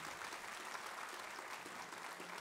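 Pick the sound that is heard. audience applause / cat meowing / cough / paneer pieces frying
audience applause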